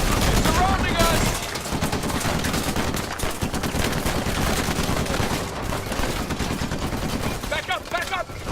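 Rapid gunfire and shotgun blasts crackle through a chaotic video game firefight, dense bursts layered under shouted voices and battle noise throughout.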